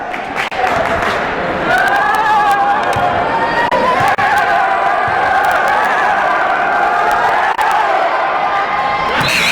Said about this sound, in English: Lots of noise from the Nashoba crowd on that first shot